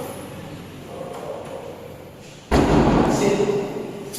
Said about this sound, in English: I will close first this door